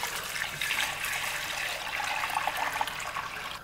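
Milk poured into a pot of boiling salted water while making corn porridge, a steady liquid gushing and splashing sound that runs continuously and fairly loud, close by, with no talking.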